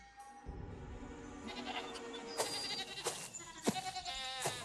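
Goats bleat in a farm pen, several wavering cries overlapping and rising in turn, fairly close, amid a soft rustling background as part of a narrated story.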